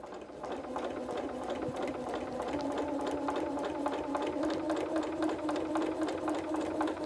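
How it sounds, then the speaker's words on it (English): A sewing machine stitching a quarter-inch quilt seam while piecing a quilted Santa cookie rug, a fast, even mechanical whirring hum with rapid needle ticks, steady and close throughout. "So you're just going to simply sew your 1/4 inch seam."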